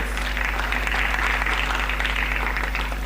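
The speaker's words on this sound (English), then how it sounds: "So let's give them a round of applause." Applause for Sochi Climathon teams: a dense, steady round of clapping from an audience, sustained at an even level through the whole stretch with a constant low hum underneath.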